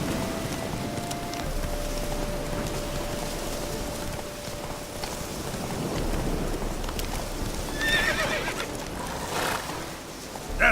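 Roach, a horse in The Witcher 3, gives a whinny and trots across open ground while wind blows over the scene, with a steady gallop rhythm and a brief louder neigh near the end.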